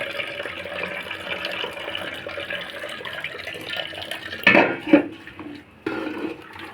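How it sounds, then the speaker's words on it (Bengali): Water runs as it drains off cooked rice in a home kitchen, a steady close splashing flow with a couple of sharp clinks from a pot or utensil near the end, and no talking. "ভাতে জল ঝরাতে দিলাম"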